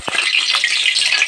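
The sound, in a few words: oil being poured into a hot pan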